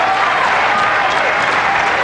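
Big crowd at a 1989 bowling shootout applauding and cheering loudly in a dense, continuous burst, filling the space close up.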